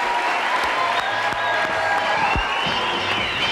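A French television studio audience applauds warmly as a guest arrives on the variety show Coucou c'est nous. The clapping is dense, continuous and close, with a few sharp accents and faint tonal sound beneath.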